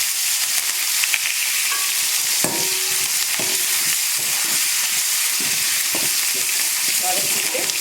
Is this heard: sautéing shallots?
yes